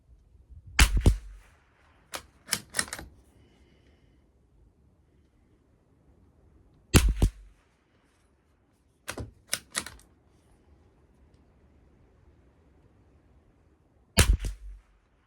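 A Savage MKII BTV .22 rifle firing CCI Standard Velocity ammunition at a 50-yard range: sharp, dry shots come singly and in quick clusters of two or three, separated by quiet pauses.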